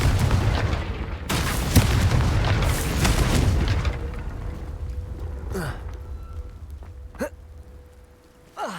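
A Confringo spell explosion in the video game Hogwarts Legacy: a loud, sustained boom with rumbling debris fills the first four seconds, then fades into quieter game effects and a few sharp hits.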